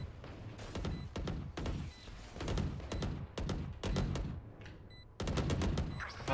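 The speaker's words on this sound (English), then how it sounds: "Shotgun." Gunfire in the Valorant video game: a loud, close string of shots fired in quick, uneven succession, with a short lull near the end before more shots follow.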